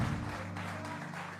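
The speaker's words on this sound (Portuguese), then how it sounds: "e a igreja aplauda ao Senhor." A church congregation applauding during a worship service, a steady wash of clapping heard at close range with no speech over it.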